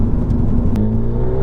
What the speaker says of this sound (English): straight away you will notice a very, very different exhaust tone